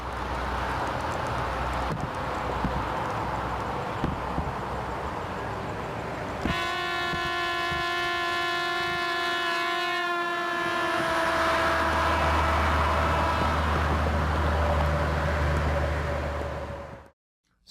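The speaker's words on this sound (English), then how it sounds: "let's hear the constant pitch emitted by the trumpet together with the Doppler shift" A trumpet holds one steady note from a car driving past on a road, heard from the roadside over constant traffic rumble. The note comes in sharply midway, then its pitch slides lower as the car passes, and it fades before everything cuts out.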